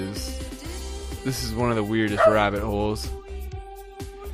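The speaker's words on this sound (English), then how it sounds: "That's my dog barking, isn't it?" A dog barks a few times in the background during a podcast, short yips and bow-wows rising over someone talking close to the microphone.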